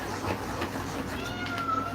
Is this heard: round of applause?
no